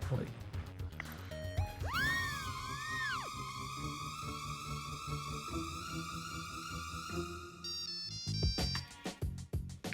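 A phone ringtone plays a bright electronic melody with sustained tones for several seconds amid background music and busy room sound.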